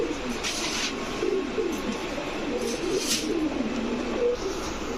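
Pet pigeons, Army-type birds raised from chicks, coo repeatedly at close range, soft throaty calls rising over a constant low background hum.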